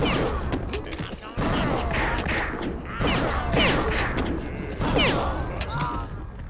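Repeated bursts of gunfire from the video game Redneck Rampage, with loud shots and crashing impacts in several clusters over a steady noisy game background.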